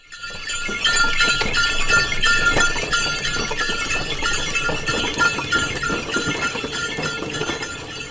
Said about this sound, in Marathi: बैलगाडी येस